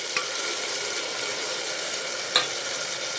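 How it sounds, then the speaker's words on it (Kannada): Tomatoes fry in a pan, giving an even continuous hiss of sizzling oil with two brief sharp knocks of a utensil against the pan. "ಚೆನ್ನಾಗಿ ಫ್ರೈ ಆಗಿದೆ ಟೊಮೊಟೊ ಇವಾಗ ಆಲೂಗಡ್ಡೆ ಆಲೂಗಡ್ಡೆ ಹಾಕೋಣ"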